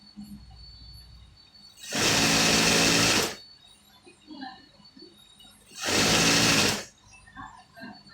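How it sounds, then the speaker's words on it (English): A sewing machine stitches trouser fabric for a pair of women's elastic-waist trousers, running in two loud steady bursts of about a second each, separated by quieter pauses with faint background noise. "I now stretch it a little bit, then continue my stitching."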